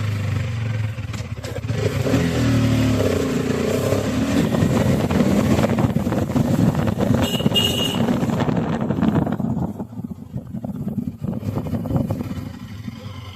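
A motorcycle engine runs steadily after a cold start, a continuous low rumble with wind buffeting the microphone, the tone shifting slightly as the rider gets ready to move off.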